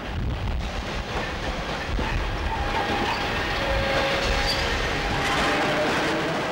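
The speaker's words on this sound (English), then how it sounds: "here a westbound train of R stock arrives" A westbound London Underground District Line R stock train arrives at Bromley-by-Bow alongside the LT&S line, a loud continuous rumble of wheels on rail with faint clicks and a brief high squeal, filling the whole stretch.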